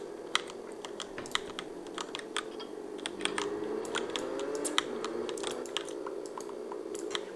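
Fingers type on a computer keyboard in a quick, uneven patter of close key clicks over a low, steady background hum.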